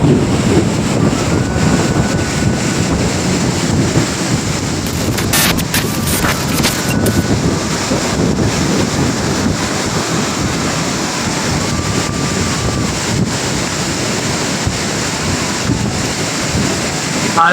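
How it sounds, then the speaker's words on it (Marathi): A violent storm of torrential rain and strong wind, a continuous loud roar with wind buffeting the microphone and a few brief crackling bursts, sustained without pause. "एकदम वादळ, तुफान पाऊस."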